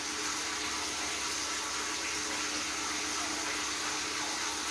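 Water runs steadily from a tap during bathing, a constant close hiss and splash with no pauses or voices.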